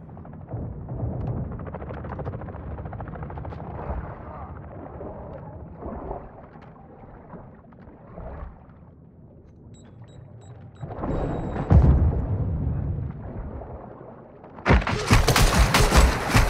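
Bursts of automatic and scattered gunfire in Call of Duty Modern Warfare II DMZ rattle on and off among battle rumble, ending in a loud, sharp volley.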